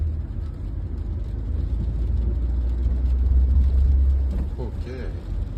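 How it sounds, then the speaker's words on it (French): A Mercedes A-Class with a six-speed gearbox accelerates gently, its engine a steady, close, low rumble that swells slightly, with a voice briefly heard near the end. "Allez, on accélère un tout petit peu."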